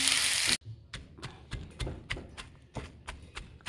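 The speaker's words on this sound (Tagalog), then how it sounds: "Ayan, dikdik din natin." A mortar and pestle pounds chili with salt and sugar, giving a series of about a dozen dull, evenly spaced thuds close by, after a brief burst of noise at the start.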